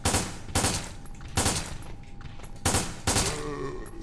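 A semiautomatic weapon fires in a video game: five loud, evenly spaced shots ring out in close succession, each with a sharp crack and brief rumbling tail.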